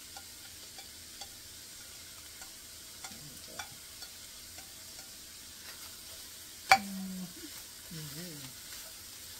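Cabbage and celery stir-fried for pancit noodles: a soft, steady sizzle with occasional scraping stir strokes and a sharp clank of the utensil partway through, while a voice speaks faintly in the background.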